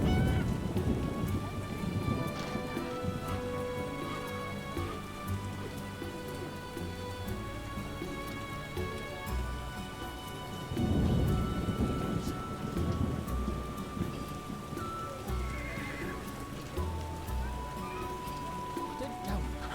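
Heavy in-game rain from The Witcher (2007) pours in a dense, steady hiss, with low thunder rumbling partway through, all beneath a sustained musical score.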